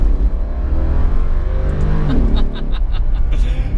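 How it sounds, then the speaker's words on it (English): A Brabus G700 Widestar SUV engine rumbles and revs up close, a deep steady roar rising in pitch with a few faint clicks toward the end. "Just listen to the engine."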